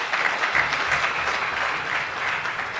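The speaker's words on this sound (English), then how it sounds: "another round of applause please to Mr." Audience applause at a university anniversary ceremony for the University of Dar es Salaam, a steady wash of many hands clapping, moderately near and continuous throughout.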